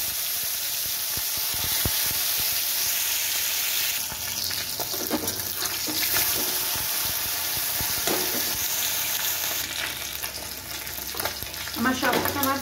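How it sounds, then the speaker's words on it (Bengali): Fish fry in hot oil in a wok with a dense, continuous sizzle, punctuated by spattering pops and occasional scraping knocks of a utensil, loudest near the end. "বাকি মাছগুলো আমি কড়াইয়ে দিয়ে দিলাম"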